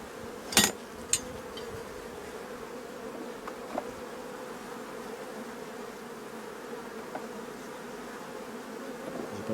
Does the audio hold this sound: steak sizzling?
no